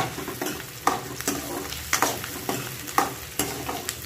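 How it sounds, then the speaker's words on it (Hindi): Garlic fries in a pan with continuous sizzling, while a utensil scrapes and stirs it in regular strokes roughly every half second. The sound is close and steady, with no talking. "और अभी साथ में हम लहसुन डाल देते हैं।"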